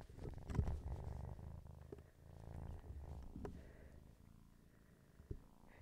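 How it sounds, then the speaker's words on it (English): A cat purrs close up, a steady low rumbling vibration with a rhythmic in-and-out pulse, with occasional small rustles and bumps. "She's got a very loud purr."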